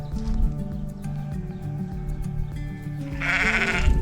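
Goat bleating at a farm fence in Portugal, loud wavering bleats close by over a busy background, ending in a brighter, rougher burst.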